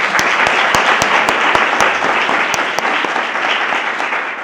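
Loud, dense audience applause after a school science debate session, a continuous roar of many hands with occasional sharp individual claps standing out near the listener.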